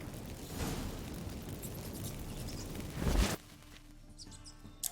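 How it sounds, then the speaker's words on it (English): Magic fireworks set off by activating incense in Witcher 3 in Novigrad: a sustained crackling, rushing burst that swells to a loud boom near the end, then drops to a quieter sparkling tail. "Get ready for some magic fireworks."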